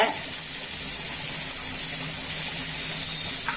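Curry leaves and fennel seeds sautéing in a pan give off a steady, loud, close hiss that holds evenly throughout, with no voices over it.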